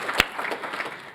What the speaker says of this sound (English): Yeah, they deserve applause